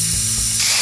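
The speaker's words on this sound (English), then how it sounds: "we'll be turning our spray cans on" A short, loud burst of hissing spray from an aerosol spray can, continuous for under a second and growing brighter toward the end.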